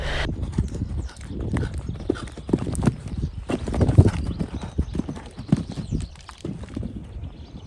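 Steady rhythmic clip-clop of horse hooves in a quick canter, close and fairly loud, with some rustling and no talk.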